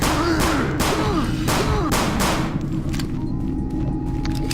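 A gun fired in Doom 3 VR sends out a quick run of loud, booming shots spaced roughly half a second apart, followed by quieter clanks and a fading tail.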